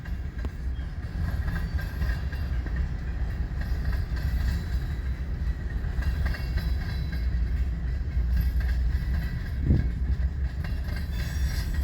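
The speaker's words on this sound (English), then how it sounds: "We have an eastbound stack train approaching." An eastbound double-stack freight train approaches in Fremont, Nebraska, a low rumbling drone with faint rail clatter that holds steady at moderate distance, with a brief thump near the end and no voices.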